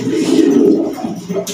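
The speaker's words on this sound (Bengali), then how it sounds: "অসাধারণ একটা কবুতর" A male breeding pigeon cooing close by, one low throaty rolling coo followed by a shorter softer one.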